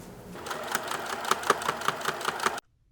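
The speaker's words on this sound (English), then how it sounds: "And now we'll sew right along here." A sewing machine stitches a binding strip onto a quilted vest made from a thrifted quilt, giving a quick, rhythmic mechanical whirr with regular needle clicks for about two seconds before stopping abruptly.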